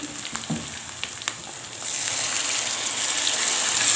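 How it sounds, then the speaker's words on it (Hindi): Water is poured into potatoes and peas frying in desi ghee with green chillies, bringing a few crackles and pops at first and then a loud, steady hiss and sizzle that builds and holds close. "अब हम इसमें ऐड करेंगे थोड़ा सा पानी"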